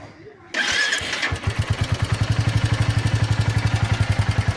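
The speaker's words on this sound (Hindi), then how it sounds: "ये देखो फायरिंग मेरी क्लासिक 350 की किस तरह से आ रही है" A Royal Enfield Classic 350 motorcycle starts with a brief cranking clatter, then settles into a loud, close, regular thumping single-cylinder idle with evenly spaced pulses.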